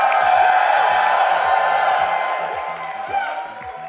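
A crowd at the SGDQ 2018 charity speedrun marathon, watching a Mario Maker relay race, roars and cheers in a loud, steady wash of whoops that fades slightly toward the end.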